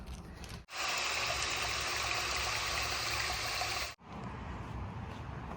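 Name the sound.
water flowing from tap into plastic bag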